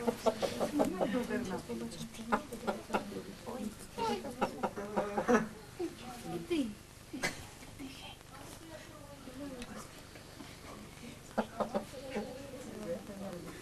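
A rooster clucks in short, scattered bursts under ongoing talk during a Ukrainian St. Andrew's Day folk tradition, with a busy farmyard murmur in the background.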